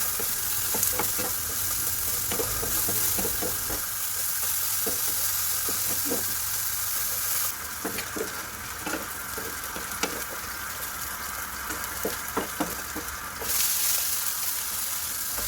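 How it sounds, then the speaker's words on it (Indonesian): Sliced shallots, garlic and chili sauté in a pan, giving a steady close hiss of frying broken by repeated soft scraping stirs of a spatula. "Tumis bawang merah, bawang putih, dan cabai ini saya iris-iris aja"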